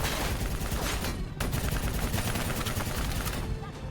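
Dense gunfire in the Black Ops 3 video game, rapid overlapping bursts and shots packed tightly together, loud and close, with a brief lull midway.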